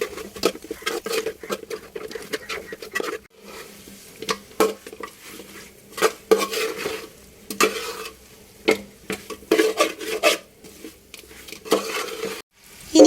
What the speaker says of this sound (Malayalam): ഈ ചിക്കൻ ഇട്ടിട്ട് നമുക്ക് നല്ല വണ്ണം ഒന്ന് ഇളക്കി കൊടുക്കാം